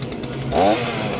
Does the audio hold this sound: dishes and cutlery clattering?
no